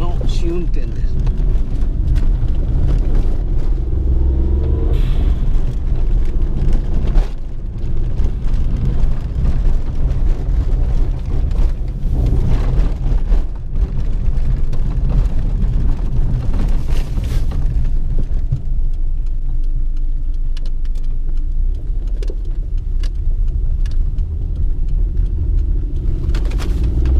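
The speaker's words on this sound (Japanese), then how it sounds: "本日最後の試運転をします。 底付きするかのどうかの試運転です。" A modified Suzuki Kei Sports works replica with rear suspension swapped to cut coilovers rumbles along a road on a test run, its engine and road noise heard from inside the car, loud and continuous with wind buffeting and some talk.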